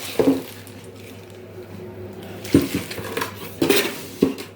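Metal cookware clanks and clatters in a few separate bursts, a new pot and lid being unpacked, set down and shifted close by, with quiet pauses between.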